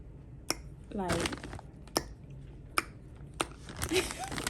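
Crunchy grapevine grapes chewed up close, with a few sharp bite cracks and soft crunching bursts spread through a quiet stretch, with brief voice-like sounds in between.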